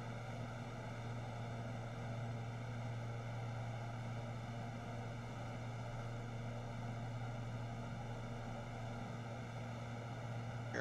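Twin propeller engines of a C90 King Air in the X-Plane 11 flight simulator, a constant droning hum with strong steady tones, running evenly and unchanged throughout with no speech.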